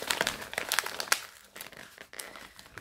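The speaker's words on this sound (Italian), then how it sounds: "apriamo il pacchettino insieme" Plastic wrapping crinkles and rustles in bursts as a parcel is handled and opened up close, with brief pauses between the crackles.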